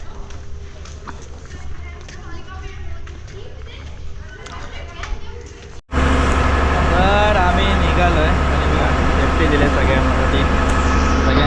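Heavy, steady low rumble of a ferry boat's engine near Alibaug, loud and continuous after a brief drop to quiet, with people talking over the drone.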